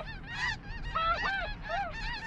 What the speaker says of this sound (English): These geese are gonna land on us.